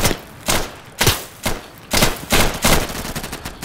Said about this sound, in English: Dude, stop fucking shooting at me